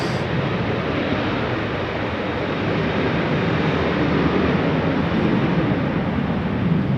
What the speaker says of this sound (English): 737 KLM. Taking off.